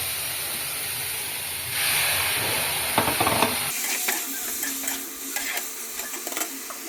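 Eggplant pieces fry in hot oil with spices in a pan, giving a steady sizzling hiss that swells for a moment before a spoon starts scraping and clicking through the pieces in quick, close strokes.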